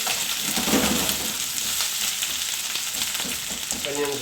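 Onions and peppers stir-fry in a pan for a Chinese-takeaway-style beef and black bean dish, giving a steady loud sizzle with scraping stirs throughout and no talk.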